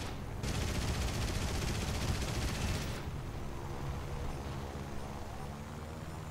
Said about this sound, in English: A bit aggressive on the shooting